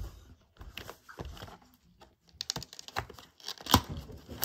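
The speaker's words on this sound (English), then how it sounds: "Trying to get the sticker loose." A sticker being peeled and torn loose from a BinaxNOW rapid test card: faint, scattered crackling and tearing bursts in an irregular rhythm, close by and quiet, with no talk.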